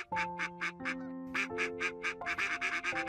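A cartoon duck quacks rapidly and rhythmically, roughly fifteen bright nasal quacks in a steady run, over sustained background music tones in a Bengali animated story.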